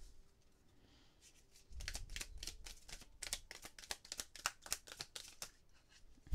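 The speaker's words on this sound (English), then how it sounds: "These are interesting to try and shuffle, especially the way I like to shuffle, where one will come flying out." Tarot cards being shuffled by hand, a brief quiet stretch followed by a run of rapid crisp riffling slaps and flicks, close and fairly loud, with no talk.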